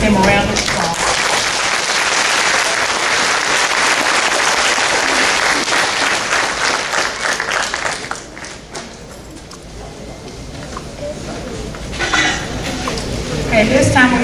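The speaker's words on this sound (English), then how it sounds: "Let's give them a round of applause." Fifth graders with perfect attendance get applause at an elementary school graduation ceremony, a dense wash of clapping from a large crowd that fades partway through and then picks up again, with some voices mixed in.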